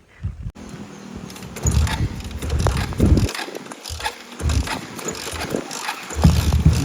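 A vehicle engine idles and revs unevenly close by, with intermittent bursts and dips. Heavy rain has flooded the river nearby.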